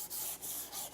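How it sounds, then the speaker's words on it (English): Fine 220 grit sandpaper rubbed by hand over a wooden table top in three long strokes, a close, breathy scratching hiss with brief dips between passes and no talking. "sandpaper, just sanding the surface"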